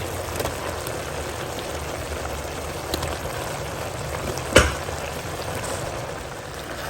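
Smashed potatoes cook in a pan for aloo kurma with a dense, steady sizzling and bubbling wash of sound, close and even throughout, broken by one sharp knock near the end.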